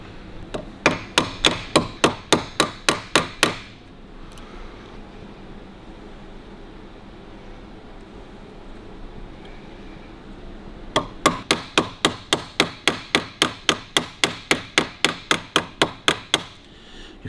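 Ball peen hammer tapping rivets into the speedometer of a 1941 Harley-Davidson WL: two runs of rapid, evenly spaced sharp metallic taps, roughly a dozen and then about twenty, close and loud, separated by a stretch of quiet room hiss.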